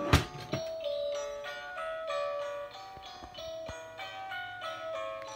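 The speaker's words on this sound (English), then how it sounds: "Got the Ferris wheel and the motionette. I'm gonna turn it on." A Dollar General Ferris wheel motionette toy plays its tinny, generic electronic melody, a chiming music-box tune of bright notes that starts with a couple of clicks and loops on steadily and fairly close.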